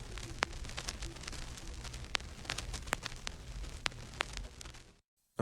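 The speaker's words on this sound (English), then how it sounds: "Let's hear the vinyl crackle first." Vinyl crackle effect in a lo-fi mix: a dense, quiet hiss with scattered sharp pops and clicks running steadily for about five seconds before cutting off.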